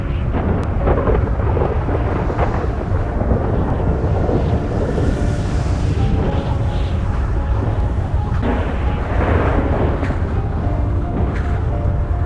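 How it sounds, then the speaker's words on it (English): During a storm in GTA 5, thunder from a lightning bolt rolls in a long, loud, rumbling wash, with wind and rain noise churning underneath. "I genuinely think the lightning is going into the plane."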